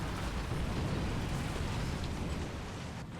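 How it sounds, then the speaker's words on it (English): Artillery shells land around a tank in the video game War Thunder, a loud, rumbling, continuous blast-like roar that dominates and eases off slightly at the end. "Artillery has just started taking pot shot"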